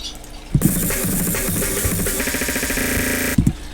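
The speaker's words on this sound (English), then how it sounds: "that's what's known as snare rolls" Sliced break drums rearranged into rapid snare rolls in FL Studio for a jungle breakcore pattern, playing loud and dense for about three seconds, with a short burst of drum hits before and after.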